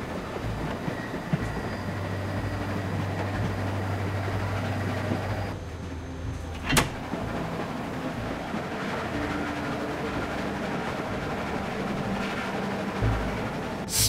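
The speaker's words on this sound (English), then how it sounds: "Stop the train." A train rolls along continuously in The Walking Dead video game, a dense, steady rumble of wheels and rattling carriages with faint clickety-clack and squeal, brief sharp knocks breaking in partway, and no talk.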